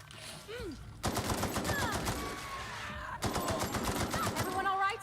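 Automatic gunfire in the video game The Outer Worlds, two long loud bursts of rapid shots close up, the first starting after a short quiet stretch with a voice, the second following a brief dip.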